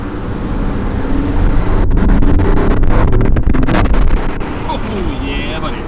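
An Aston Martin Vantage engine accelerating hard: a loud, continuous roar that swells through the middle and eases toward the end, heavily mixed with wind buffeting.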